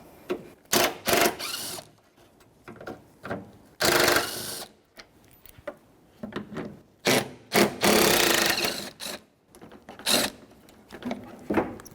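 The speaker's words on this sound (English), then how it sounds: "So with a 10mm socket, take these off." Headlight mounting screws on a 2005-2021 Nissan Frontier are removed with a 10mm socket, heard as close bursts of ratcheting clicks and metallic rattles separated by short pauses.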